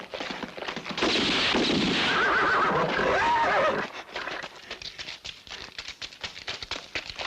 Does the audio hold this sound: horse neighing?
yes